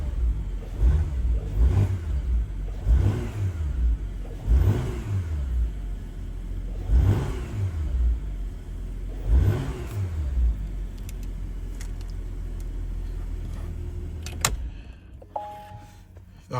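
A 2023 Porsche Macan S V6 in sport mode, just after a cold start, revs repeatedly in about six separate blips that rise and fall, close by, then settles to a steady idle before a small click.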